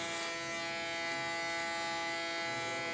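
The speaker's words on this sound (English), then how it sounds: "I travel out with my clipper comb" An electric hair clipper with a clipper comb buzzes in a steady, close, high-pitched hum while trimming hair short, running alone without talk for a few seconds.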